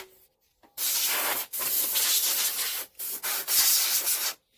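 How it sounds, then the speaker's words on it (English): Compressed air blasts dirt off an old Barford Atom tractor in a series of loud, close, broadband hissing bursts, about four of them, separated by short pauses. "Compressed air is not quite cutting the mustard totally."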